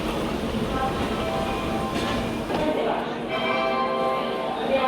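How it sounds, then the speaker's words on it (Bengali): The 12017 Dehradun Jan Shatabdi Express pulls into Ghaziabad station, a steady rumble and rattle of rolling stock holding level throughout over busy platform noise. "আসছে ট্রেনটা।"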